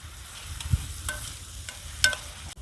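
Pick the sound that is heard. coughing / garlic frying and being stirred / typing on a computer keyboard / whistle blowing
garlic frying and being stirred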